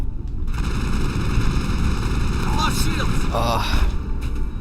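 Combat gunfire in the sci-fi game Mass Effect, a dense continuous barrage with thuds and electronic effects layered over a steady background hum. Someone talks over it.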